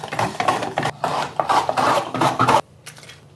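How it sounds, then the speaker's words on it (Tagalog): Eggplant pushed across a vegetable slicer in a series of rapid rasping, scraping strokes, close and fairly loud, stopping abruptly before a quiet tail, with no talk. "Gagamit tayo dito ng vegetable slicer."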